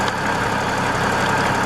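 Tractor engine running steadily after a fuel filter replacement, a loud, close, continuous mid-to-low rumble with an even idling chug throughout.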